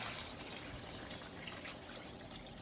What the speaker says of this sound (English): So let's go ahead and fill our pot with water.